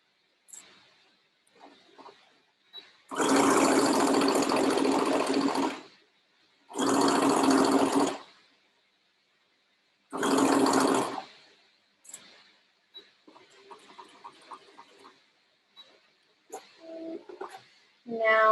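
A sewing machine stitches the second shoulder seam of a boy's dress shirt in three loud, close bursts of a few seconds each, separated by quiet pauses with faint handling sounds.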